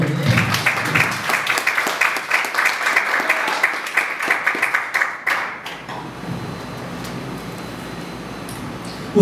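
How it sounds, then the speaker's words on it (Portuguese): A congregation claps during a church sermon, a fairly close patter of many hands that holds for about six seconds, then stops and leaves a low room hum. "Aplaude o Senhor."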